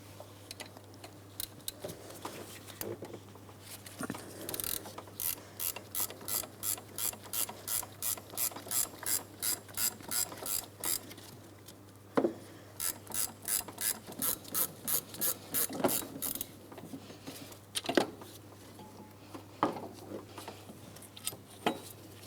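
A hand ratchet loosens the last 15mm alternator mounting bolt on a 2004-2008 Pontiac Grand Prix 3.8L, giving close, steady runs of rapid pawl clicks in rhythmic bursts with short pauses between strokes.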